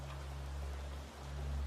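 Steady rain falling on a rainy night near a caravan, a soft continuous hiss with a low, even rumble underneath, unbroken and without voices.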